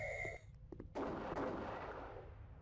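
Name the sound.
gunshots in Haunted House Scary Ghost Killer video game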